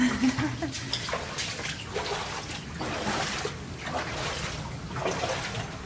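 Water drips and trickles steadily inside an old gold mine in Meirionnydd, sounding like continuous patter with splashing pulses that echo close by.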